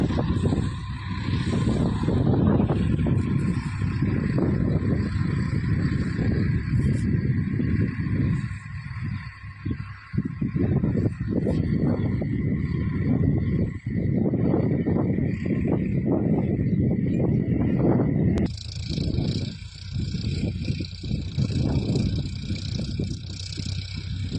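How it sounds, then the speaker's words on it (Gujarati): A tractor works a farm field, a continuous low engine drone with fluctuating load that rises and dips, fairly near, with a shift in tone toward the end. "હા ટ્રેક્ટર આવી રહ્યો જોઈ લો"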